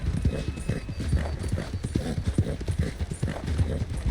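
Steady clip-clopping of horse hooves at a trotting rhythm in the video game Red Dead Redemption 2, clear and fairly close, with a faint low rumble underneath.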